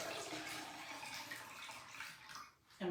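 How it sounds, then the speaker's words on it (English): Water poured into a flower vase makes a continuous splashing, trickling rush up close, fairly quiet, that dips briefly just before the end. "I'm gonna pour this water in here."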